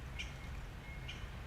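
A bird calls twice outdoors in Tokyo, two brief high chirps about a second apart over a steady low background hum of the surroundings.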